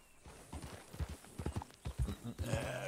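Horse hooves clip-clop at a steady trotting rhythm in Red Dead Redemption 2, moderately close and fairly quiet, with a brief whinny-like sound near the end.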